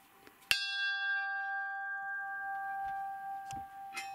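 An old bell cast in 1773 struck once, a sharp clang that blooms into a long, clear ringing tone slowly fading, with faint outdoor noise and a couple of soft knocks toward the end.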